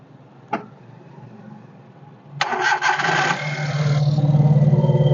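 A sharp click, then a used Maruti Alto car engine cranks and catches, settling into a steady, loud idle close by.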